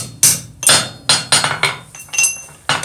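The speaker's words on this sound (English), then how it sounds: "It just takes a few pops with the hammer, and this will be perfect." A hammer taps metal blacksmith pick-up tongs, about seven sharp ringing strikes in an uneven rhythm, close and loud with a bright metallic clink.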